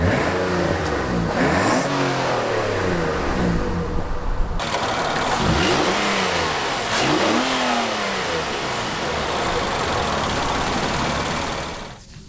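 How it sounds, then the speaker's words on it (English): A 2017 Nissan Pathfinder with a naturally aspirated V6 starts and idles, then revs repeatedly in loud rising and falling sweeps before settling back to idle. "Let's start up this engine and hear the sound of that for a moment."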